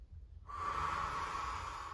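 A single long breath drawn in and let out during a full-body stretch, soft and airy, rising after a short silence and holding steady close to the ear.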